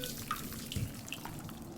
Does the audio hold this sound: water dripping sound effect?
yes